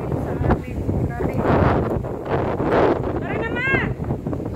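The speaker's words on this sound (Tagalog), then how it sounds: "Sobrang hangin." Strong wind buffets the microphone with rough, gusty rumbling while a person speaks briefly in the middle.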